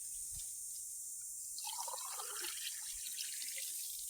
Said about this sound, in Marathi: याला पण एकदा पाणी टाकून देऊया मस्तपैकी.